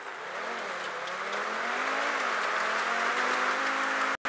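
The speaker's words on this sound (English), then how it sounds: "I'm gonna use my supercar again." A supercar engine in GTA 5 drones loud and steady during a stock car race, its pitch rising and falling slightly, with a brief cutout near the end.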